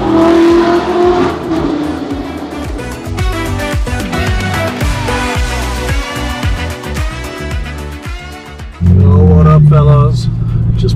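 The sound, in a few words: Audi R8 with Supersprint race exhaust engine revving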